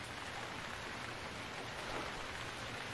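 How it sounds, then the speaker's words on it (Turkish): Rain falls steadily in the survival video game Stranded Deep, a constant hiss of drops that stays even and fairly soft from start to finish, with no speech over it. "Oğlum yağmur başladı."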